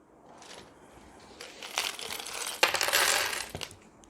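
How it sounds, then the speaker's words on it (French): Sewing clips are snapped onto fabric beside pins along a zipper while a beginner's pencil-pot pouch is assembled, giving a few close, crisp plastic clicks and light rustles that grow busier toward the end. "je vais venir utiliser des pinces."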